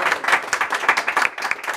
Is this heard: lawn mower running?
no